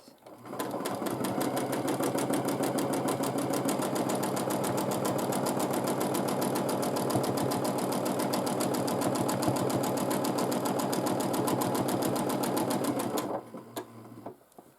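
A sewing machine runs steadily at high speed while free motion quilting, stitching in the ditch with a ruler, a rapid even needle clatter holding close and loud for about thirteen seconds before stopping abruptly.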